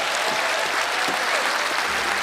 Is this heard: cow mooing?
no